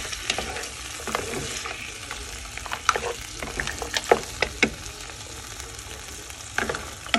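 Wine splashes into a hot frying pan with vegetables, raising a bright, crackling sizzle, with stirring scrapes and spatters popping at irregular intervals, close and continuous.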